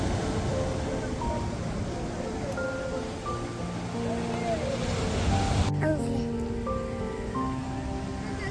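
Ocean waves break on a rocky beach in Trivandrum in a continuous wash of surf, with people's voices talking and calling over the top.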